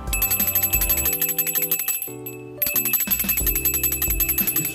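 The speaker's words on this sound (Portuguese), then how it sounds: "as pessoas escutavam o barulho do sino que o boi da cara preta usava no pescoço" A bell hung around an ox's neck rings in bright, repeated metallic chimes with a steady rhythmic pattern, briefly pausing midway before resuming, loud and alone without any voices.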